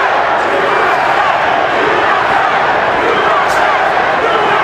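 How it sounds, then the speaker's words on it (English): A boxing arena crowd at the Floyd Mayweather versus Jose Luis Castillo fight roars in a dense, continuous wash of noise, with an indistinct chant rising from the fans and no clear individual voices. "And you hear a chanting of USA."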